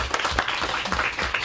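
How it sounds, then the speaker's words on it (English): Audience applause at a restaurant baking competition, a dense steady patter of many hands clapping for the kitchen team, fairly loud and continuous throughout. "let's give a round of applause to our amazing team in the back"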